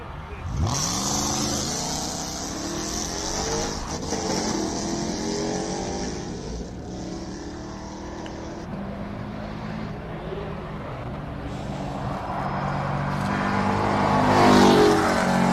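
Race car launching hard off the line at the Simola hillclimb, a loud engine roar with rising pitch sweeps as it accelerates away, fading slightly then swelling again, with a commentator talking over it throughout.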